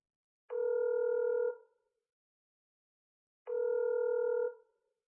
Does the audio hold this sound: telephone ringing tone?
yes